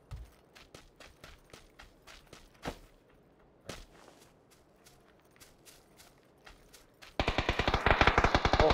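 Gunfire in the video game PlayerUnknown's Battlegrounds: scattered faint distant shots and footsteps, then a sudden loud, rapid automatic burst close by near the end.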